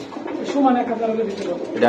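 Pigeons coo softly in a low, throaty murmur while people talk nearby throughout.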